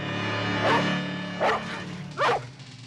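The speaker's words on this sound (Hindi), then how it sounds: "ये रॉकी के भौंकने की आवाज है" A dog barks three times at spaced intervals, moderately distant, over a steady background hum with a faint tonal drone.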